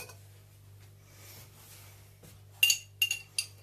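A small spoon clinks against a glass jar of capers, three sharp bright taps near the end after quiet kitchen background, close and distinct.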